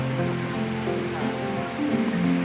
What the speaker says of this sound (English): We've got the river gurgling beside us here.